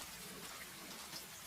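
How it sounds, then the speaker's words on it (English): Steady autumn rain falling in a quiet town at night, a soft, even hiss of drops, faint and continuous, with no voices. "Everything is quiet enough for the rain to be heard"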